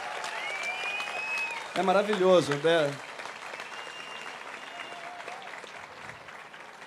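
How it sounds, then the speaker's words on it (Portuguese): An audience at a 2016 political debate applauds as a steady wash of clapping under a man's loud, emphatic speech, with a louder vocal burst partway through. "palmas para eles também"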